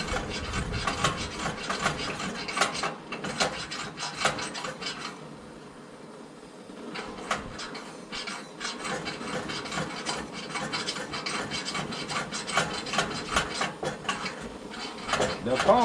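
A hand pump on a brass Samrat Bush Stove No 12 kerosene pressure stove is worked in a steady run of close, rhythmic mechanical clicks and rubbing strokes, pausing briefly midway before resuming.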